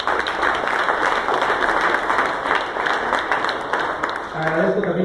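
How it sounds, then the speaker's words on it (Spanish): An audience at a municipal business-support handout event applauds, sustained clapping with voices and talk mixed in, and a tonal sound rising near the end. "un fuerte aplauso con nuestro amigo Garcés"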